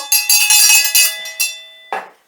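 A bright bell rings in a quick series of metallic strikes, closing with one final softer ding that fades out.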